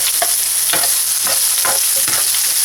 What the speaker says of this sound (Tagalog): magpainit lang tayo ng oil. So, magigisa na tayo. Lagay natin yung garlic, onion,